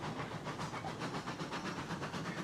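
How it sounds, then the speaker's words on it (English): A tiny steam locomotive called Betsy, running in a railroad video game, puffs in rapid even chuffs layered over a steady rail rumble and hiss, with no talking. "Listen to the sound of the Betsy, guys. I love it."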